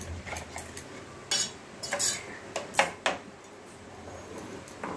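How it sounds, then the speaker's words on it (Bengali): A spoon clinks and scrapes against a bowl while mixing a steamed egg (bhapa dim) mixture, in a handful of sharp, irregular metallic taps and scrapes over quiet kitchen background. "ভালো করে এটাকে মিক্স করে দিতে হবে।"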